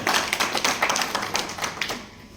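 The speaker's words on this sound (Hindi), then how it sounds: "शाह साहब के लिए एक बार जोरदार तालियां" Sustained audience applause at a mushaira poetry gathering, a dense patter of many hands clapping steadily throughout, loud and close, easing slightly toward the end.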